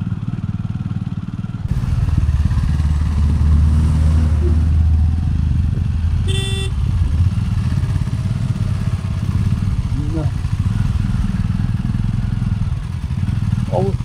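A vehicle drives along a badly broken, rough road after the Tezpur crossing, its engine droning loud and close with rattles and clatter from the bumps, while a person talks over it.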